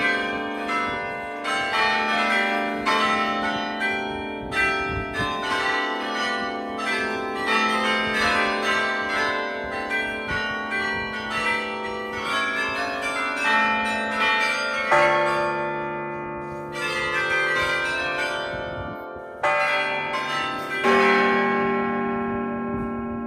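Bells peal from the belfry tower in Bruges, Belgium, their overlapping strokes ringing loud and continuous for over twenty seconds with rich, lingering tones and no voices.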